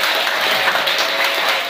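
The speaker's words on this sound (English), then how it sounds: "keep that round of applause for Jay" Steady, dense applause from an audience at a poetry event on the Big Island, filling the whole stretch without a break and with no voices over it.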